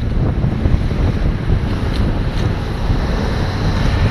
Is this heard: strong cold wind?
yes